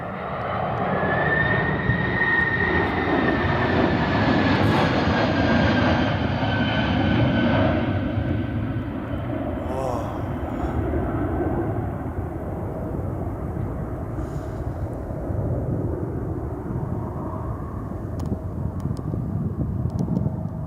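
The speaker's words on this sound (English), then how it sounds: "This Boeing 767 had to go around due to an Airbus A330neo still taking off on the same" A Boeing 767 jet goes around over the runway with a sustained loud engine roar and a rising whine early on, steady and close for the whole stretch, with no voices.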